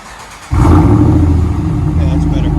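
A RAM 1500 5.7L V8 with dual exhaust, muffler delete and 5-inch tips barks awake after a half-second of low background, then holds a loud, deep, sustained rumbling rev close by, with people talking underneath.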